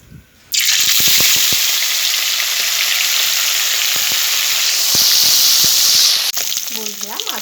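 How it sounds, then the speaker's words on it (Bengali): Amudi fish fry in hot mustard oil in a wok, with a loud, continuous hiss and sizzle that bursts in suddenly and holds steady, dotted with small pops and clinks and easing slightly near the end. "মাছগুলো ভেজে নেব।"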